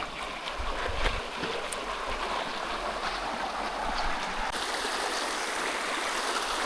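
A river flowing in Yakutia, on the Yakutsk–Magadan route, rushes steadily, a continuous close babbling stream with a few splashes. No one speaks.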